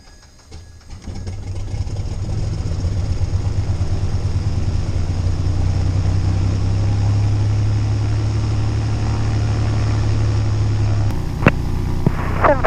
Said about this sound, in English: clear, engine start.